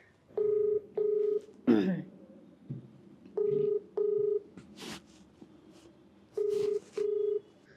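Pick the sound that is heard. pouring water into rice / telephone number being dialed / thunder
telephone number being dialed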